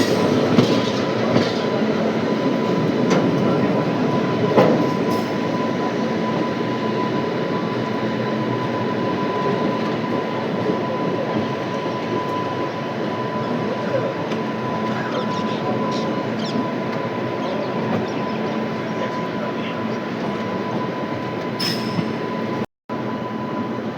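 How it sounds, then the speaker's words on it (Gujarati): A train on the Porbandar-Rajkot line rumbles steadily along the rails, a loud continuous roar with faint clatter from the wheels, heard from on board, with a brief cut-out near the end. "આપણું લોકોમોટિવ વળી ગયું છે રાજકોટવાળી લાઈન તરફ"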